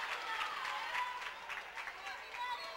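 Applause from South Kitsap parents at a high school volleyball game in a gym, a steady close patter of clapping with crowd noise and people talking through it.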